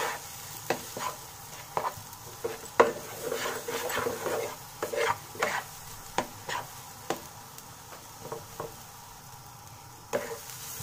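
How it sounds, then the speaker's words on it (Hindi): Pea stuffing for kachori is stirred and fried in a pan, with a spoon scraping and tapping the metal in irregular strokes over a soft, continuous sizzle, close by and with no talk. "तीन चार मिनट में स्टफिंग हमारा अच्छे से भून गया है और ये ड्राई भी हो गया है"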